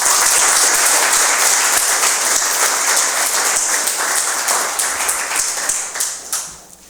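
A lecture hall audience gives sustained, loud applause as an architecture speaker is welcomed. The dense clapping holds steady for several seconds, then thins and fades out.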